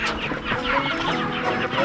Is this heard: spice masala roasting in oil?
no